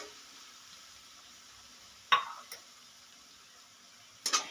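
Onions fry in a pan with garlic and ginger for Punjabi baingan bharta, giving a faint, steady sizzle. A few brief clinks of a spoon against the pan break through the sizzle.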